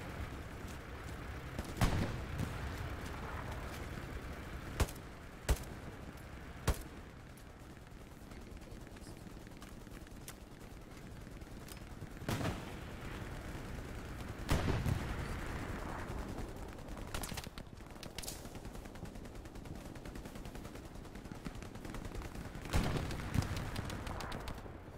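Gunfire in the video game Hell Let Loose: sharp single shots ring out at irregular intervals, some loud and near, others fainter and more distant, over a constant rumbling battlefield bed.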